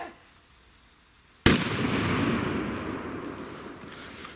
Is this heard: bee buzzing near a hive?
no